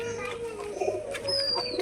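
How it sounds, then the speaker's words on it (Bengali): Doves coo nearby in soft, low repeated calls, with children's voices and play faintly in the background. "ওইখানে দেখো দুটো কিন্তু পাখি বসে আছে তো ওই দুটো হচ্ছে ঘুঘু পাখি"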